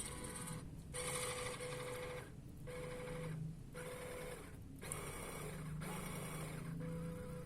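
An MN78 RC car motor runs submerged in water, giving a steady, fairly loud mechanical whir with a constant tone that cuts out briefly several times, leaving a sputtering, stop-start pattern with no talking.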